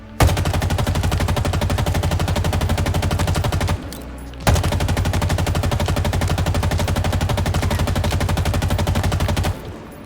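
Two long, rapid full-auto bursts from the AR assault rifle in Halo Infinite, loud and close with dense rattling shots, split by a short pause.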